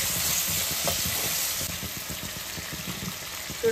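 Raw prawns frying with browned onions in a pan, a steady close sizzle with faint stirring scrapes running throughout.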